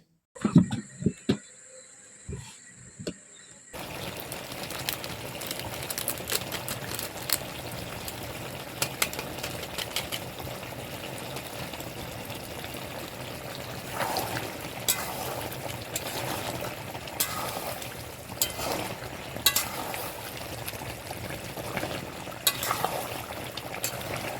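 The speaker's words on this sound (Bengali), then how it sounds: "এদিকে বিরিয়ানি রান্না হচ্ছে সবাই মিলে একসঙ্গে আনন্দ করে খাওয়ার জন্য" Biryani cooks in a pot with a steady, dense bubbling and sizzling hiss that runs continuously after a quiet start, with faint clatter now and then.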